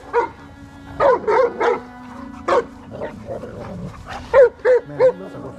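A large Cane Corso dog barks and yips in a yard, with a couple of bursts of several sharp barks at close range, then a few quieter whimpering sounds and a last run of loud barks.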